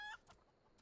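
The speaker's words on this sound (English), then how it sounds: "Oh, the chicken." A brief chicken cluck from the video game Final Fantasy XIV, quiet and short, followed by faint game ambience.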